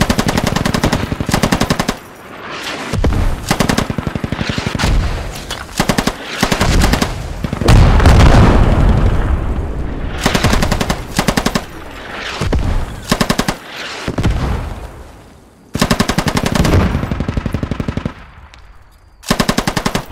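PKP machine gun firing in the Squad video game during an assault on a super FOB, with loud sustained bursts and short pauses, rapid repeated shots filling the clip.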